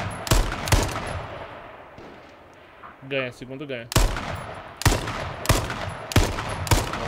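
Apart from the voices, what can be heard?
gunfire in the video game H1Z1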